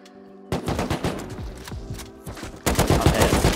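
AK rifle fire in the survival game Rust: sharp automatic bursts crack out after a brief quiet, pause for a moment, then resume in a louder, denser volley, close and unaccompanied by speech.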